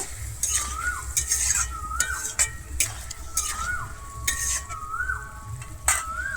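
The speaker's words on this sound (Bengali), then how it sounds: "ভেজে রাখা কচুটা দিয়ে আমি খুব ভালোভাবে এখানে মশলার সঙ্গে মিশিয়ে নেব" Fried taro being stirred into spices in a pan, a soft constant sizzle broken by repeated sharp scrapes and clinks of a spatula in a regular rhythm, up close.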